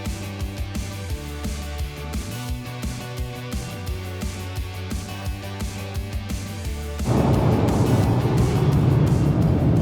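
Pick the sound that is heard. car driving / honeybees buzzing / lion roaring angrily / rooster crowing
car driving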